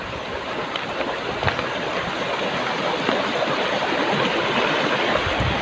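A stream in Catalunan Grande, Davao City rushes steadily and broadband, a continuous close wash of flowing water with no pauses.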